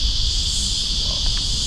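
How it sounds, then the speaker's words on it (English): Cicadas buzzing in the sun in a cemetery, a steady, dense high-pitched drone running unbroken throughout at moderate loudness, with faint low rumble underneath. "The old cicadas are coming out again because the sun's out."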